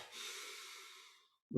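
A person taking a slow breath in during a martial arts warm-up exercise, a soft airy rush lasting over a second, close and quiet, ending in a brief low thump.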